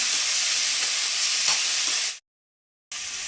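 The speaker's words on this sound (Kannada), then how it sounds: "ಕರ್ಬೇವು ನಂತರ ಟೊಮೊಟೊನೂ ಚೆನ್ನಾಗಿ ಫ್ರೈ ಮಾಡ್ಕೊತಾ ಇದ್ದಾರೆ" Tomatoes and curry leaves fry in hot oil with a loud, dense, close sizzle, then the sound cuts out completely for a moment before the sizzling resumes; no one speaks.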